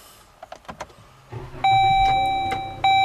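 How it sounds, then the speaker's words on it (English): A 2012 Dodge Journey being switched on: a few soft knocks, then a sustained electronic dashboard chime tone that cuts briefly and resumes, heard close inside the cabin. "when we turn the car on"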